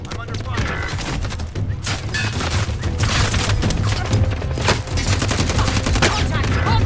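Gunfire in the Call of Duty Warzone video game rattles on almost without pause, loud, dense overlapping shots and bursts with heavy booming low end from start to finish.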